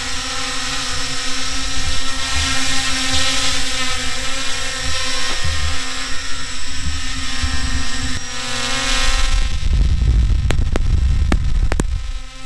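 A HolyStone HS720G drone hovers with its propellers spinning. The steady high-pitched whine of the rotors holds throughout, and a deeper rushing roar of downwash and a few faint clicks rise near the end.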